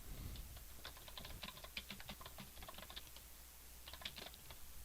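Quick, uneven clicking of typing on a computer keyboard, light and close, in short bursts with small pauses, heard alone in a quiet room.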